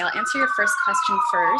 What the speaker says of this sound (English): I'm so sorry about the siren.